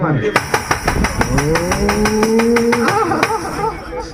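A motorcycle engine, likely imitated by a performer's voice during an outdoor street play in Haryana, giving a rapid chugging putter with a rising revving tone for a few seconds.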